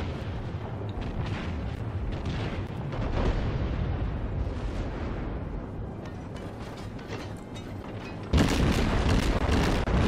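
Heavy cruiser Furutaka naval guns fire shells in World of Warships, a continuous rumble of booming salvos and mechanical clatter that swells with a louder blast near the end.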